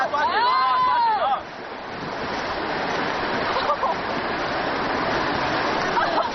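Rushing river water on the Mengdong River during rafting, a dense continuous roar of churning current heard close, with a brief whistling tone near the start.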